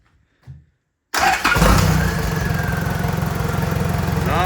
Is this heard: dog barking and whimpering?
no